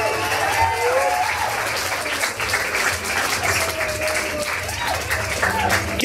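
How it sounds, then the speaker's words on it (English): Applause from a live rock concert audience at the Black Cat club, steady dense clapping mixed with crowd noise and scattered whistles throughout. "Give yourselves a large round of applause."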